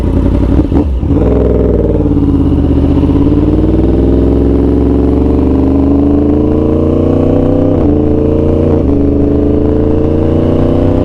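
A Yamaha R1 sport motorcycle engine held at high revs on launch control, a loud, close, sustained steady drone after a brief blip at the start, with small dips in pitch late on.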